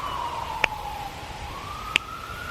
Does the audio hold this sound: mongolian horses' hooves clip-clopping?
no